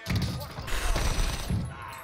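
AK rifle fire in the video game Warzone: a burst of booming shots with low thumps, then a short pause before another shot, over faint game ambience and a voice in the background.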